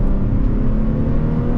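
Infiniti G35 engine revving hard under acceleration in third gear, a loud, steady low drone with a strong rising engine tone throughout, heard from inside the car with no talking.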